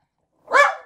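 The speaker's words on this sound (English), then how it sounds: "Stop barking, dog." A single sharp dog bark in a Minecraft-style crafting game, close and loud after a moment of silence, tailing off quickly.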